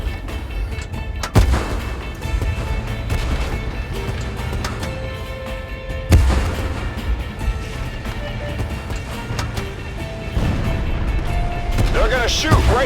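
Tank cannon fire in the video game Tank Force on Renaissance Island: sharp booming shots at intervals over a continuous engine and battle rumble, with a voice talking throughout.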